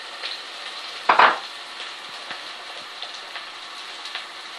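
Potatoes fry in a pan with tomato and ginger garlic paste under a faint steady sizzle, with one sharp scrape or clatter early and light stirring taps afterwards.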